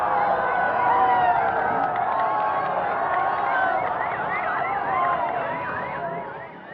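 A dense crowd cheers and shouts continuously at the finish of a long cycle race, a sustained roar with whistles and warbling, wavering tones rising and falling over it throughout.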